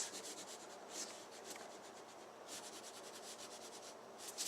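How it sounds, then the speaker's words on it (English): An eraser rubs pencil lines off paper on a perspective drawing in quick back-and-forth bursts, soft and close, with pauses between strokes. "Erase."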